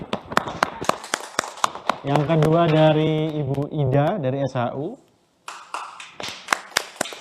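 Scattered hand claps from an audience greeting lucky question-prize winners at a talk event, sharp and irregular, mixed with an announcer's speech and a short musical jingle.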